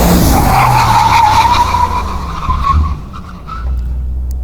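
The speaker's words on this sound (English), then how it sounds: "And now full brake." A Mercedes G-Class brakes hard at speed on a test track, giving a loud, sustained tyre squeal that slides slightly in pitch and fades over a few seconds, with engine and road rumble beneath.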